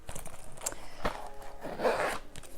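Zipper on a Louis Vuitton Carryall Pochette bag being pulled in several short, close, raspy strokes, the longest near the end, with a slightly uneven catch from a wonky zipper and no talking.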